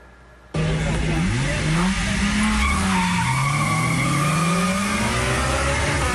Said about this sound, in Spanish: El ruido de los motores y del contacto de las llantas contra el asfalto reemplazaron a la refinación de petróleo en la fallida refinería del Pacífico